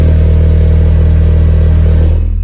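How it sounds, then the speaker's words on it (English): A steady, loud 40 Hz test tone drones through a powerful five-channel car amplifier on a dyno, holding constant with no talk before cutting off abruptly at the end. "we're gonna play 40 hertz through it and see what it gets up to before it clips"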